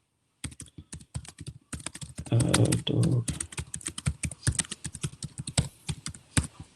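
Rapid typing on a computer keyboard, a steady run of crisp clicks with a dense burst in the middle, close and clear, with a brief spoken word partway through.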